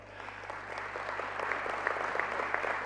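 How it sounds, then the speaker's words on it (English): A convention crowd in Paraguay applauds the Speaker of the Paraguayan Congress, a sustained wash of many hands clapping that swells slightly toward the end over a low steady hum. "The Speaker of the Congress of Paraguay, could we also give him a round of applause as well?"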